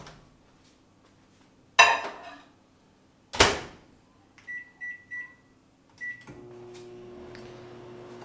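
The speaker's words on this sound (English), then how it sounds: "you're going to put that in the microwave" A microwave oven cooking beet and kale chips in a home kitchen: a couple of clunks from the door, a short series of beeps, then the steady low hum of the oven running.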